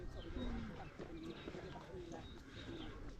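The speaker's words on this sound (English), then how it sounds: "hear the birds," Birds call on a countryside walk in Capdella, with repeated soft cooing notes like a pigeon or dove, heard near but fairly faint beneath outdoor ambience and some voices.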